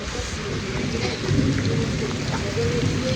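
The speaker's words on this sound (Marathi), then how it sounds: "हा पाऊस बघा किती आलाय" Heavy monsoon rain pours steadily on a Konkan village, a dense, loud hiss with low rumbling underneath, continuous and unbroken, with no voices over it.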